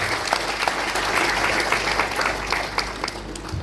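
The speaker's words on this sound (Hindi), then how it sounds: "एक बार जोरदार तालियों से इनका धन्यवाद" A crowd at a grand Brahma Kumaris event in a hall applauds, a thick continuous wash of clapping with a low hum underneath.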